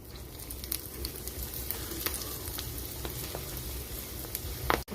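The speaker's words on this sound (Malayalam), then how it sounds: "വെളിച്ചെണ്ണ ചൂടായി വന്നിട്ടുണ്ട് കുറച്ച് വെളിച്ചെണ്ണയിലേക്ക് ഇട്ട് കൊടുക്കുക" Dried ivy gourd pieces frying in hot coconut oil, a steady close sizzle dotted with sharp crackling pops and a brief utensil knock at the very end, with no talking.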